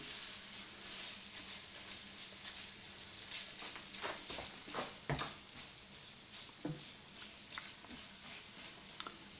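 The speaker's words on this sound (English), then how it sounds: "my pan is just now getting hot enough to start browning" Sausage browning in a hot pan for a creamy sausage and potato dinner, giving a steady broadband sizzle with a few sharp clicks and pops from stirring, fairly close and continuous, with no talk.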